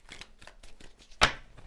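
Tarot cards are shuffled close by in quick riffling bursts, a soft rhythmic series ending in one sharper, louder snap of the deck, with no talk.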